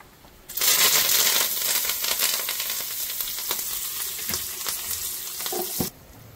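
Curry leaves hit hot tempering oil for sambar off the heat, a loud sudden burst of hissing sizzle that crackles and slowly settles before cutting off.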